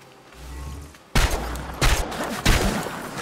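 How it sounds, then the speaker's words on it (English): Pistol shots in the video game Chernobylite, three loud sharp reports spaced about two-thirds of a second apart, each with a short ringing tail, following a quiet low ambient hum. "So I'm going to have to use my pistol on this fool."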